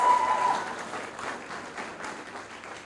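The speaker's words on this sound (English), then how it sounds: "So I think we should give them another round of applause." An audience at a schools debate applauds the debaters, soft, fairly distant clapping that tapers off gradually over a few seconds.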